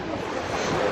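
Black Sea surf in Odessa washes in as a continuous broadband rush, loud and close, with no voices over it.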